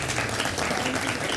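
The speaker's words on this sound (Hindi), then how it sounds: "दोस्तों की भरपूर तालियां" Studio audience on a Pakistani morning television show clapping for a couple's wedding anniversary, a brief, dense burst of applause.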